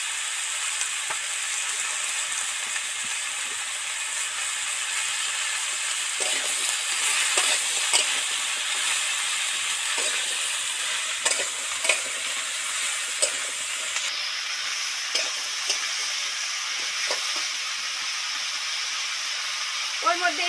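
Spices such as dried chilli and bay leaf frying in oil in a village kitchen pan after a sprinkle of salt, giving a steady close hiss and sizzle with occasional light stirring clicks throughout.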